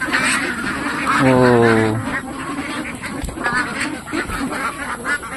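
Pet ducks (itik) make a short run of loud, nasal honking quacks close by, followed by scattered softer calls, with a brief exclamation from a person.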